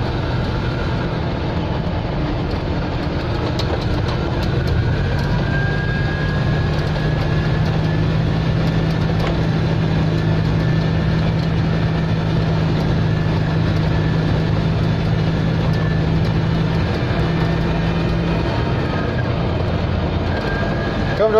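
An Invacar three-wheeler driving on a mountain road: a steady, droning engine and road rumble holding a constant low hum throughout, with a sustained tone through the middle stretch.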